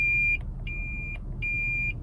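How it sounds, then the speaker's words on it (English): Rear cross traffic alert of a 2020 Lexus RX reversing: a series of short, clear electronic beeps, about four in two seconds, fairly quiet against a low cabin hum. "When you're backing up and someone is crossing at the rear of the vehicle, you're going to get some beeps."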